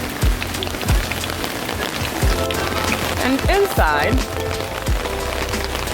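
Steady rain patters across a campsite in Florida while family members grill outside, a dense wash of drops under brief talk and a few thumps and squeaky voices.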